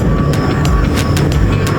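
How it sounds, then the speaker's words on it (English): An aeroplane sound effect for a children's vehicle alphabet lesson, a steady loud engine drone with a thin whine held throughout and a few brief higher bursts, with no talking. "A for aeroplane."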